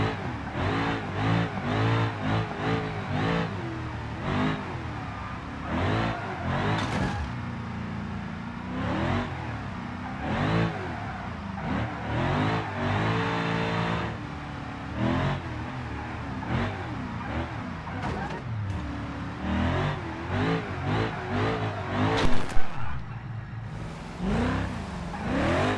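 In BeamNG, a simulated car drifts with repeated throttle blips, the engine rising and falling in quick revving bursts alongside tire noise, at a steady moderate level.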